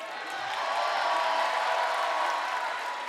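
Wrestling arena crowd at a TNA iMPACT show roaring and cheering in a steady, sustained swell, loud and broad, holding throughout with no clear voice on top.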